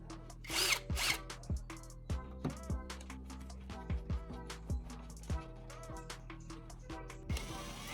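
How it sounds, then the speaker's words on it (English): A cordless drill drives a homemade winch built from old motorcycle sprockets, whirring in short repeated bursts, starting and stopping with brief pauses, close by, with a faint mechanical ratcheting between pulls as it lifts a heavy water pump. "By simply pulling the trigger on the drill, our DIY winch effortlessly lifts this massive weight."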